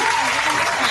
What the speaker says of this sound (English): Y'all give it up for Miss Ashley Howard of Who's Cooking